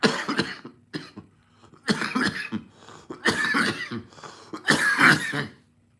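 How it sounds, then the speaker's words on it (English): A series of harsh, close coughing fits in several bursts, with throat clearing between them, no talking. "y'all should recognize the cough"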